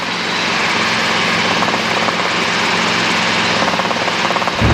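A helicopter in flight gives a loud, constant rotor and engine roar that fills the whole stretch and cuts off abruptly at the end.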